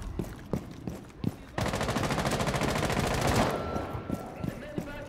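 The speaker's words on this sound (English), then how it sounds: "Are you guys getting shot at up there?" Video game gunfire erupts as a sustained rapid burst of automatic fire lasting about two seconds, framed by scattered single shots before and after, with faint voices nearby.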